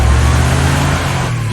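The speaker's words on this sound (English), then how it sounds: "There's no way he stays in front of a moving car" A car drives in The Wolf Among Us, giving a loud, steady low engine drone that holds throughout without pause.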